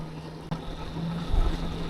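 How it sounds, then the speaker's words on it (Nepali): A motorcycle engine brakes on a hilly road, holding a steady low drone under heavy wind rush, with a brief thump near the start. "यो इन्जिन ब्रेकिङ यसलाई भन्छ भाइ, इन्जिन ब्रेक हो यो"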